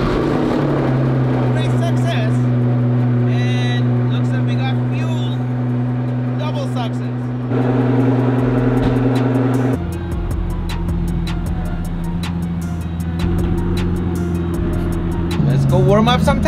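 A Pagani Zonda Hermes V12 revs hard, its loud, steady engine drone stepping up in pitch through gear changes, close and continuous, with people talking over it.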